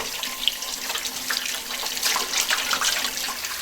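Water runs from a tap as a whole farm duck is rinsed clean in a kitchen, a steady close splashing wash with shifting gurgles and no talk.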